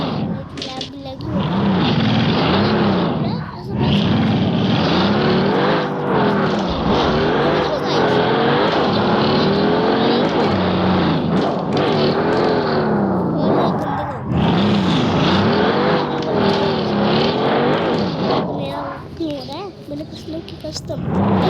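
Race cars in the GTA 5 video game, engines droning and revving steadily throughout with a continuous loud roar, while a person talks over the game sound almost the whole time.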